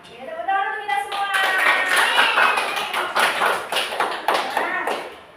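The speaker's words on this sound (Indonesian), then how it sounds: "Oke, tepuk tangan untuk kita semua." Students in a classroom lesson clap their hands together in a steady patter of close claps lasting several seconds, with children's voices calling out over it.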